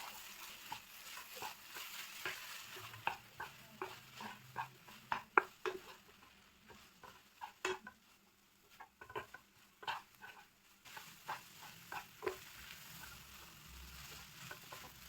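Veg Schezwan noodles are stirred and tossed with chili sauce, tomato sauce, salt and Schezwan sauce in a restaurant-style pan, giving quiet repeated scraping, clinking and patting sounds in an irregular rhythm, close and fairly soft.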